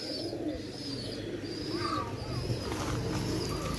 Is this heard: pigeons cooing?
yes